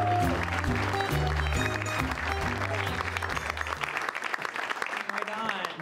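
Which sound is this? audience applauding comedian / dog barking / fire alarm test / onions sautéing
audience applauding comedian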